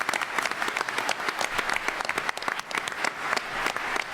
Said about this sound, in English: Join me in applauding Jonathan Ingersoll.